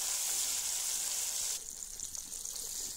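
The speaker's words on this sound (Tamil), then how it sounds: "நம்ம இப்போ மீதமுள்ள இருக்க மீனையும் பொரிச்சுக்கலாம்" Trevally fish pieces frying in oil in a pan on a low flame, a dense hissing sizzle that drops suddenly to a softer crackle halfway through, close and steady, with no speech.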